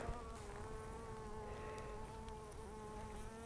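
Honeybees hum and buzz continuously at close range beside a beehive during nuc and hive feeding, a steady, full drone with layered wingbeat tones and no talking.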